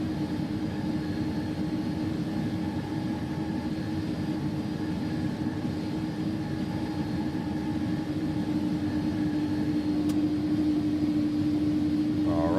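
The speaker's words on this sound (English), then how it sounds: "So we'll go next stage of flaps here." Steady, droning cockpit engine noise from an iniBuilds A300-600F freighter in the X-Plane 11 flight simulator during approach, continuous and even with a faint tonal hum throughout.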